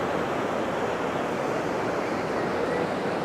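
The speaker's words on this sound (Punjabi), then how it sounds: "ਬਹੁਤ ਬੜੇ ਬੜੇ ਵੇਵਸ ਬਣ ਰਹੇ ਪਾਣੀ ਦੇ ਆ" Large ocean waves breaking on a beach in Hamilton, New Zealand, heard as a continuous loud, broadband roar of surf with some wind, steady throughout and no voices.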